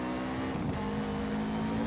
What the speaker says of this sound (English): Acceleration out of corners as well.